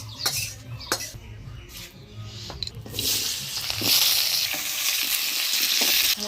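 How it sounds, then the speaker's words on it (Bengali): Drained potato pieces hit hot oil in a Bengali village kitchen. Scattered clinks of utensils come first, then a loud, steady hiss of frying grows and carries on until the end. "এবার জল ঝরায় আলুগুলা ভাজে নিই।"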